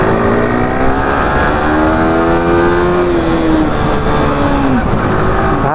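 KTM Duke motorcycle accelerating in traffic, its engine pitch climbing steadily through the gears as a loud, close, continuous roar with a wind-buffeted edge.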